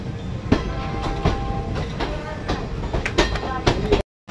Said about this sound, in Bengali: ট্রেন ঢুকলো মালদা টাউন স্টেশন।